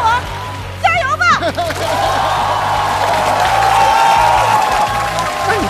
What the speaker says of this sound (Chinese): 掌声欢迎谢大。